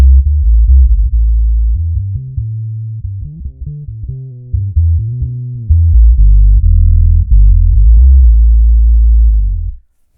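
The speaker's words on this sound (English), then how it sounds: "If I set this down really low with the damping up, it's a super bassy sound." Bass guitar played through an Alembic SF-2 filter in low-pass mode with the cutoff set very low and damping up, giving a deep, smooth, subby bassline with shifting notes for about ten seconds, loud and alone.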